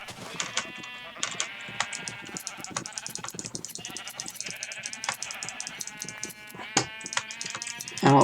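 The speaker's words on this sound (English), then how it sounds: "We're going to do us a little sheep shearing." Blocky Minecraft sheep bleat while being sheared in the video game, repeated nasal game-style bleats over busy overlapping game sound effects, fairly close and steady throughout, with no talking.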